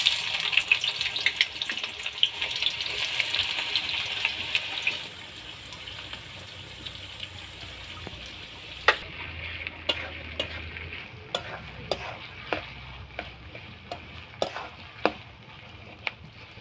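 Onions going into hot oil already tempered with whole cinnamon and cardamom while cooking goat meat curry; a steady loud sizzle eases into softer frying crackle with repeated sharp stirring scrapes and clinks, no talking.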